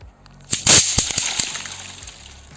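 A sharp crackling burst of small throw-down firecrackers popping against a wall in quick succession, loud and close, with scattered snaps trailing off afterward.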